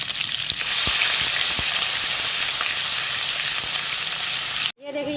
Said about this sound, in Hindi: इनको फ्राई कर लेती हूँ।